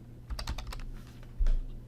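Typing on a computer keyboard, a quick run of light plastic key clicks followed by a slightly louder keystroke, close and alone without speech.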